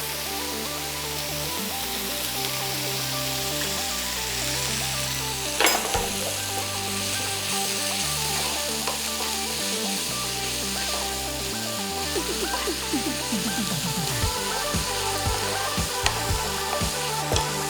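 Hot oil is added to a pan of garlic chicken with curry leaves and coriander powder, and a loud, steady close-up sizzle of frying runs throughout with faint clinks of stirring, and nobody talks.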